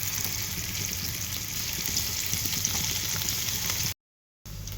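Fish pieces fry in mustard oil in a frying pan, making a continuous moderate sizzle with low bubbling underneath, heard alone without talk before a brief cut near the end.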